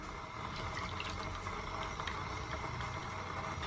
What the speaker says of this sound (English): you guys can just pour the juice like this